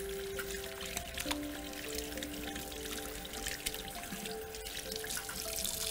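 Clean water runs steadily as hands are rinsed after washing for coronavirus hygiene, a soft, continuous trickle and splash heard close by over faint tonal background sounds.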